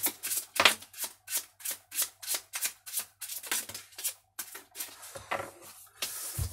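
Tarot cards are shuffled by hand for a card reading, about fifteen crisp riffling bursts in a steady, quick rhythm, close and clear.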